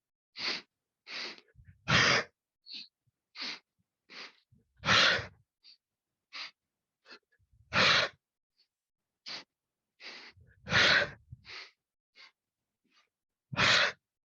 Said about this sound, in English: 1 powerful exhale out of the mouth